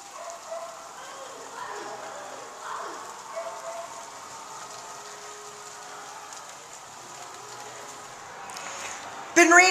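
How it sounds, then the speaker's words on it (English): Light, steady rain patters softly and evenly outdoors, then a sudden louder noise cuts in right at the end. "It's still raining."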